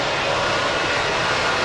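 A fixed-wing airplane passes low overhead near an airport parking spot, its engine a loud, steady roar that fills the whole moment without any talking.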